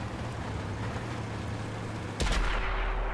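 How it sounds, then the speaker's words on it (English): Tank cannon firing in World of Tanks on PS4, an E-75 taking a shot at a T-44: a single abrupt heavy boom cuts through a steady engine rumble, then the engine drone continues, with no voices. "Derp a shot at the T-44."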